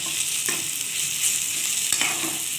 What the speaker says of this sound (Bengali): উচ্ছে আর কুমড়ো কালো জিরে দিয়ে ভাজা